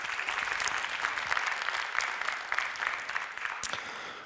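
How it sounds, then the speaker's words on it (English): Audience at a WordCamp conference applauding a speaker, many hands clapping steadily at moderate volume with no voices, the sound tapering slightly toward the end. "Round of applause."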